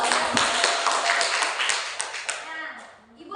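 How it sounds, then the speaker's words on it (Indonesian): Students in a classroom clap together in a fast, scattered burst of applause that thins out toward the end, with children's voices mixed in. "Tepuk tangan dulu."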